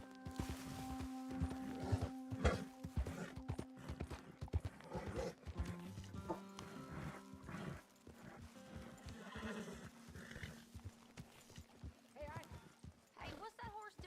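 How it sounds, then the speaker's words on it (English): A horse in Red Dead Redemption 2 clip-clops with irregular hoof thuds and lets out a whinny, close and moderately loud, while someone speaks intermittently over it. "what's that horse doing in here?"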